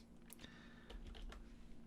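Typing on a computer keyboard: a quick run of faint, irregular key clicks at close range, alone with no talk.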